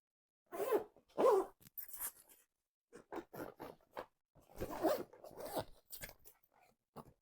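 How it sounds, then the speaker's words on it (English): A paddleboard bag for an 11 ft inflatable Wave SUP Cruiser being zipped shut in several close, rasping pulls with short pauses between them. "time to zip it"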